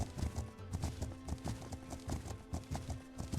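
Horses walk on hooves in the video game Legend of Khiimori, a steady close clip-clop rhythm of several animals over faint background music.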